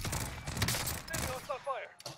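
Gunfire in the Warzone video game, a dense burst of shots under in-game voice chatter, fading out toward the end.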